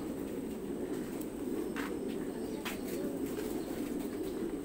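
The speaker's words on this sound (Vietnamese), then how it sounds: "Đây là cặp bồ câu sư tử nhé." A pair of lion pigeons, three months old, coo softly at a breeding farm over a steady, dense background hum with faint chirps now and then.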